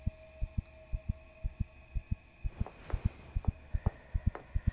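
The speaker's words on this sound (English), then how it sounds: "The heartbeat sound is making my heart accelerate." Rhythmic, thumping heartbeat effect from the video game Ex/Witch, about two beats per second in double pulses over a low hum, steady and prominent with no speech.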